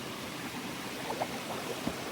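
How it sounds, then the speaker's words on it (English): A creek at a trail water crossing gives off a steady broadband rush of running water, soft and continuous, with a few faint splashy trickles and no voices. "So this is the easy water crossing that I went across before and didn't bother filming."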